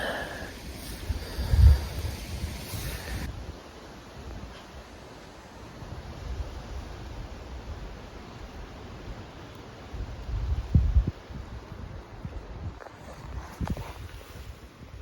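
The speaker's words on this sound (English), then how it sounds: "The wind just never died down like I thought it would." Wind gusts and rumbles against the microphone outdoors while hunting on public land. The heavy buffeting rises and falls throughout, with a few louder bursts and no talking.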